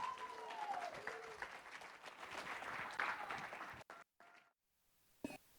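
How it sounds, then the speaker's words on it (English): Guests at a wedding reception applaud the bride's parents with a warm burst of clapping that lasts a few seconds, then cuts off abruptly into near silence with a few faint sounds. "Ladies and gentlemen, big round of applause."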